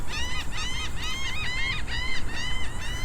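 A seagull on a rocky, oyster-covered shore during a fishing trip calls repeatedly in about six harsh, squawking cries at an even pace, set against a constant roar of wind or surf.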